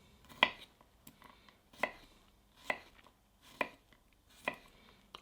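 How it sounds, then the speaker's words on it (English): A knife chops garlic into chunky pieces on a board while steak is being prepared. Five separate, fairly quiet chops land at a slow, uneven pace, with soft handling noises between them. "I'm going to cut the garlic into not fine,"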